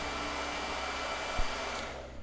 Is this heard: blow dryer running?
yes